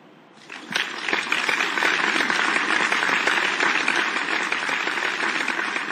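A class of children claps loudly for a classmate in a school setting, dense continuous applause swelling in after a brief lead-in and holding steady throughout.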